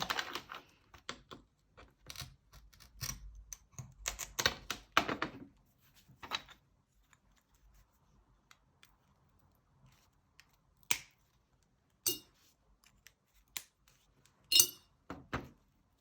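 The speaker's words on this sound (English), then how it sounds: "Now we can just start trimming these pieces up." Sharp snapping clicks of pliers nibbling at stained glass pieces, dense and irregular at first, then sparse isolated snips separated by quiet gaps.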